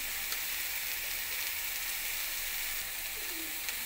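Potato and eggplant fry in hot oil with salt, giving a steady, bright sizzle that holds even and close the whole time, with a few faint crackles and pops on top.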